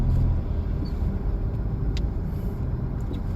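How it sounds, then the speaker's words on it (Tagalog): Heavy road traffic on Bayani Road in Taguig is heard from inside a vehicle as a steady low rumble of engines, with faint tones from passing vehicles. "Medyo sobrang traffic."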